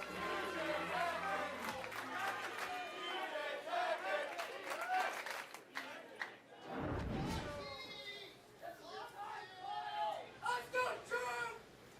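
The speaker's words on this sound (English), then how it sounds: "This crowd's fired up." Spectators at the PBA U.S. Open bowling stepladder finals shout and cheer in excited bursts, with individual yells rising out of the crowd noise, near and loud, mixed with the commentator's voices.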